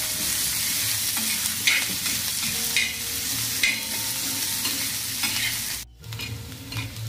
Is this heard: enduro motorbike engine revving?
no